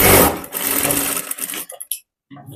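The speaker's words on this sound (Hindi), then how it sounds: "और डबल सिलाई लगा देना है।" Sewing machine running a double line of stitching along the shoulder seam of a boat-neck princess-cut blouse, a loud close whirring burst that slows and stops with a few short stutters near the end.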